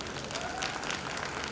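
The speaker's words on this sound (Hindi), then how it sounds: "मैं चाहूंगा एक बार जोरदार तालियां होनी चाहिए" Brief, fairly faint applause from the audience at a health awareness program, a soft wash of clapping that holds steady for a moment.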